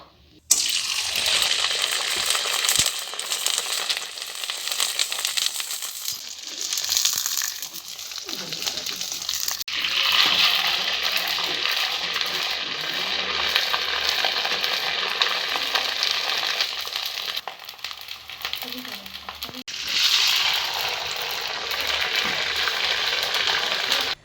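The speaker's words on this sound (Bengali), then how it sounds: "এইভাবে আমি সমস্ত পাঁপড়গুলোকে ভেজে নেবো" Papad fries in hot oil, each one bursting into a loud, bright sizzle that swells and then fades before the next, with faint kitchen clatter between.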